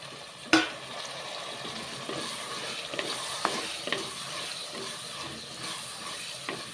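Brinjal sautés in an oily pan, a moderate steady sizzle opening with a sharp clank, then scattered spatula scrapes and taps over the hiss.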